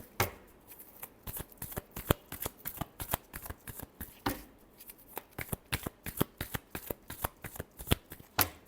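A deck of tarot cards being shuffled up close, with rapid crisp riffling flutters and sharp slaps in quick irregular bursts, a short pause partway through.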